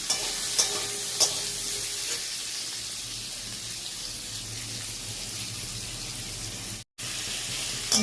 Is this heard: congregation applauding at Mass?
no